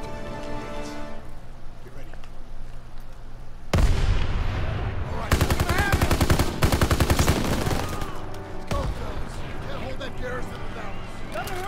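Rapid bursts of gunfire and heavy booms from a Call of Duty battle, loud and dense in two main volleys with sustained rattling between, over an ongoing low rumble.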